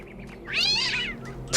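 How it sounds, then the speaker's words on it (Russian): An angry cat in The Talos Principle 2 gives a loud, drawn-out meow that swells and fades, followed by a short, sharp hiss-like burst at the end. "Какой злой кот."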